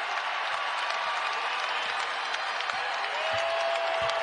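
Home crowd at a Providence Friars college basketball game applauding and cheering, a dense continuous roar filling the arena, steady and loud throughout.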